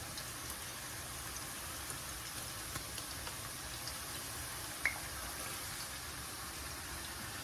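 Plantain slices fry in hot oil, giving a steady, even sizzle and fine crackle with one brief sharper pop, no voices.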